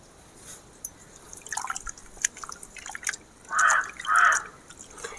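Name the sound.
pouring soaked tamarind pulp onto vegetable pieces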